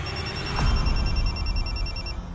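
A mobile phone's repeating electronic ringtone beeps in a steady pattern over faint background noise and a brief thump, then cuts off.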